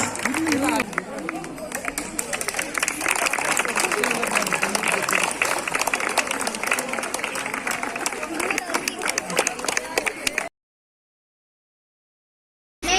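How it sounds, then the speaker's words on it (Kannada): Dense, steady clapping from a crowd at a neighbourhood Kannada Rajyotsava stage event, greeting a performer, with chatter mixed in; it runs loud for about ten seconds and then cuts to silence. "ಜೋರಾದ ಚಪ್ಪಾಳೆ ಬರಲಿ"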